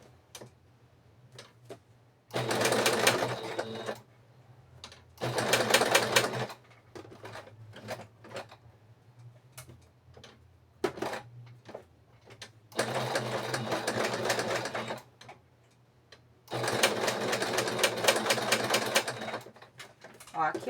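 A sewing machine stitches the body of a small fabric doll, running in three sustained bursts of rapid whirring with ticks and handling clicks between them, and someone speaks quietly in the pauses.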